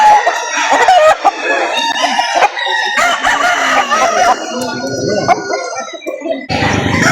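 Chickens and roosters at a poultry market in Lipa, Batangas, crowing and clucking loudly and close by, with several overlapping calls throughout and people talking in the background.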